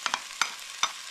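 Onions, tofu and mushrooms frying in hot oil in a pot, with a few quick stirring scrapes over a faint sizzle, no voices.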